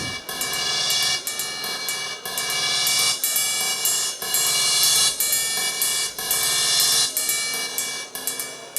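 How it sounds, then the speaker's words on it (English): WMD Crucible synthesizer module producing metallic, bright crash-cymbal tones with long decay and heavy deformation, struck repeatedly in a steady rhythm of about one hit per second, each hit cut short and choked, loud and close. "get this kind of crash thing, but then choke it out"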